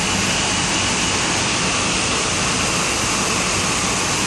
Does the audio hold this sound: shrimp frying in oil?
no